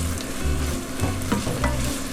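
A spoon stirs tomato into a sizzling venison Swiss steak sauce with a bay leaf in a pan. Close, continuous frying crackle runs throughout, with rhythmic scraping strokes from the stirring and no talking.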